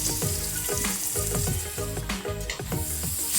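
Slit green chilies with ginger and garlic paste sizzle steadily in hot oil, with rhythmic scraping strokes of stirring repeating about every half second, close and fairly loud.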